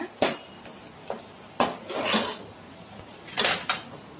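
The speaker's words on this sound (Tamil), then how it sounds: "கிரேவிக்கு தேவையான அளவு சால்ட் ஆட் பண்ணி கலந்து விட்டுடுங்க" A spoon clinks and scrapes against a pot while salted gravy is stirred, giving several sharp metallic taps spaced irregularly over a quiet background.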